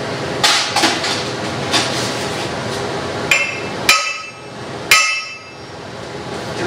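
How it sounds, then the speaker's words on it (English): A hammer strikes metal to seat a bottom piece for stick welding, giving about half a dozen sharp, ringing clanks at uneven intervals, loud and close, with a steady background hum between hits. "So I'll take my hammer. I'll just go ahead and secure that bottom."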